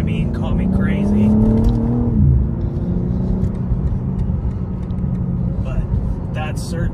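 A BMW M car drives on the road, its engine rumbling loud and close, with a rising revving pitch that drops off sharply partway through before settling into a steady drone. A person talks over it.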